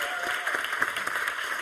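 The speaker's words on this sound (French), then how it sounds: "applaudissements." An audience bursts into dense, steady applause for a performer, a continuous wash of clapping with faint voices mixed in.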